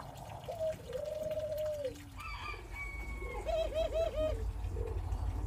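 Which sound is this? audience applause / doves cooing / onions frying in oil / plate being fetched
doves cooing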